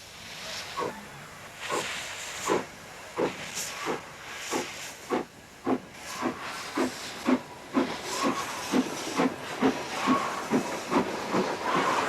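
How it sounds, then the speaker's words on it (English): A steam locomotive, a borrowed ex-GWR engine, stands hissing at a heritage railway station, with repeated rhythmic bursts of steam exhaust building in regular pulses over a continuous background hiss. "It comes in hauled by a newly borrowed XGWR loco."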